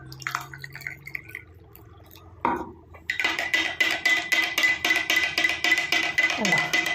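Coffee is poured into frothy beaten egg, first a soft trickle, then a quick rhythmic clinking and splashing as the mixture is worked, close and fairly loud.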